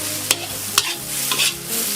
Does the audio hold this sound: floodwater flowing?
no